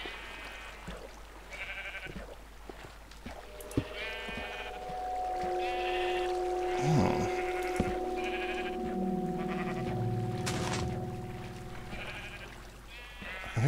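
Sheep in Minecraft bleat repeatedly, several short wavering baas spaced through the scene alongside other game tones and a low background hum.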